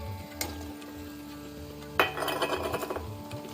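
Powdered jaggery tipped into a pan and stirred: a sharp clink of the utensil, then a burst of scraping, rattling stirring close by, louder and busier than the quiet start.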